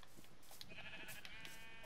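Goat bleating in the Minecraft video game, a short nasal cry over a steady low game background, moderately quiet and heard alone without any talking.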